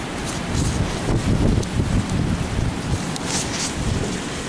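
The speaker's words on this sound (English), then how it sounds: "look at how the wind is making that even move back and forth" Loud, constant buffeting rumble of wind hitting the microphone, dense and roaring with no pauses.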